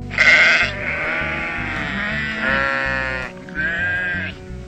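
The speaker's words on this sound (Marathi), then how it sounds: "U for उरियल, ही एक प्रकारची मेंढीची प्रजाती असून ही मध्य आशियातील डोंगराळ प्रदेशात आढळते" A urial, a wild sheep species from the mountain regions of Central Asia, bleats in long, wavering, nasal calls that repeat several times. The calls are loud and close, with no voices.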